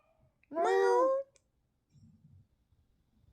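One drawn-out meow from a pet cat, close and clear for under a second, followed by faint rustling and quiet background noise.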